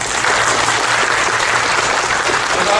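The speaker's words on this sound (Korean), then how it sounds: "선교사님 나오실 때에 우리가 박수로 환영하겠습니다" A church congregation claps to welcome a visiting missionary to the pulpit, a dense, steady wash of applause filling the hall from start to finish.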